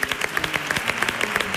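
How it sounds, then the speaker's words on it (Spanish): Audience applause at the grand final of a televised talent show, greeting two singers and a guitarist: dense, steady clapping from a crowd with sharp individual claps standing out, sustained throughout. "Un aplauso para ellos."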